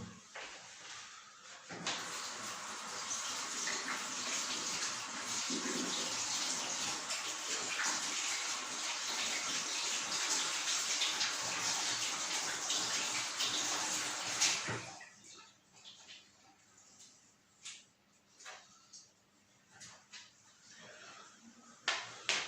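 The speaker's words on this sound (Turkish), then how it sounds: "Bir elimizi yıkayalım." Hands are rinsed under a running kitchen tap while preparing carp bait, giving a steady, fairly loud rush of water for about thirteen seconds before it cuts off, leaving quieter scattered handling noises.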